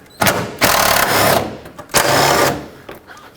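Power ratchet or small tool spinning out 10mm bolts on a Chevrolet Express radiator fan shroud, two sharp close whirring bursts separated by a brief pause.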